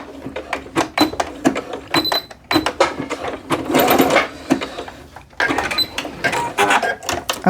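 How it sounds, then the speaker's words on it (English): A sewing machine back stitching the hem of a jogger pant leg, running in short bursts of fast rattling stitches with pauses between them, close and clear. "I'm just going to slowly back stitch."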